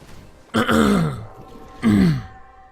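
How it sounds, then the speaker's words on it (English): Two harsh throat-clearing coughs from a man, close to the mic, spaced about a second apart, with a quiet pause between them and no talking. "Excuse me for always having a cough as well."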